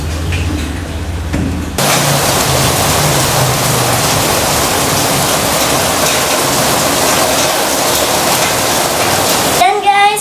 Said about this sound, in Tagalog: lumakas na naman po yung ulan